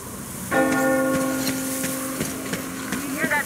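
A church bell in the Metro Exodus video game rings loud and close with long, ringing tones. Several more clangs follow over steady ambient noise.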